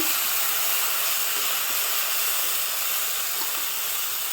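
Two spoons of ginger garlic paste fry in a pan for a mushroom pulao. A loud, steady sizzle and hiss runs continuously throughout.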